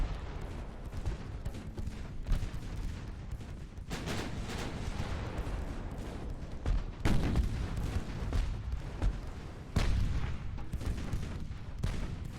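Naval guns firing in the Ultimate Admiral: Dreadnoughts naval battle game, with deep booming salvos over a constant rumble and several louder blasts spaced a few seconds apart.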